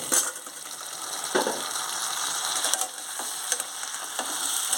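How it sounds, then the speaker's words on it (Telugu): Brinjal pieces are tipped into a pan of fried ginger-garlic paste, giving a soft sizzle with scattered clatter and stirring knocks. The sound is close and steady, with no voices. "అల్లం వెల్లుల్లి పేస్ట్ వేగింది ఇప్పుడు వంకాయ ముక్కలు వేసేసుకుంటున్నాను"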